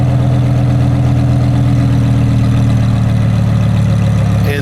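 Idling in Sport mode, a Lamborghini Huracán EVO engine gives a constant deep, throbbing drone at close range, level and uninterrupted throughout.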